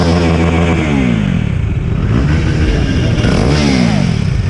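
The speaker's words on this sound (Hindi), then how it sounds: "ये है 390 का साउंड" A KTM Duke 390 motorcycle with its stock exhaust revs loudly and close by, several sharp rises and falls in pitch over a clattering single-cylinder idle, no speech over it.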